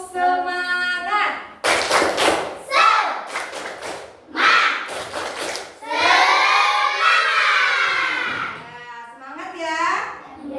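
In an Indonesian classroom lesson, children do a rhythmic clapping chant, loud sung voices alternating with sharp bursts of claps in a steady beat.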